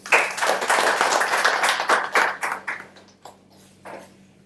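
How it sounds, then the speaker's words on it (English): Audience clapping at a seminar talk in Thailand, a moderate burst that fades over a few seconds into scattered, thinning claps. "A big round of applause to Nanny, please"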